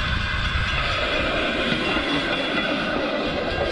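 Pedal-powered rail bike on old construction railroad tracks near the Hoover Dam, giving a steady, loud rolling rumble and hiss of wheels on rail with no talking.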